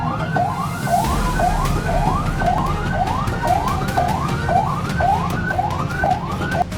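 An ambulance siren wails, sweeping up and down in a steady, repeating cycle, loud and close, over a low rumble of traffic.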